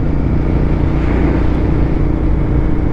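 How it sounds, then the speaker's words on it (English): Motorized bicycle engine running close up, a loud, continuous low rumbling drone that holds steady with no break for the whole stretch. "motorized bicycle."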